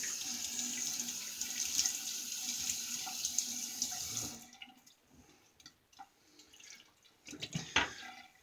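Tap water runs steadily into a sink for about four seconds as a face is wetted before a wet shave, then cuts off, leaving scattered drips and small handling sounds.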